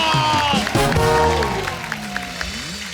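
Studio audience on a comedy talk show applauding for Dev Anand, clapping and crowd noise blended with a musical sting and voices, fairly loud throughout.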